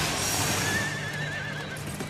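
A horse at a rodeo lets out a loud, drawn-out whinny close by, with hoof clatter and a busy crowd-like background underneath.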